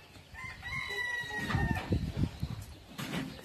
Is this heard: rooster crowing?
yes